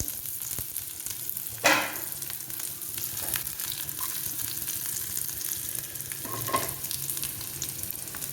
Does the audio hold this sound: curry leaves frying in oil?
yes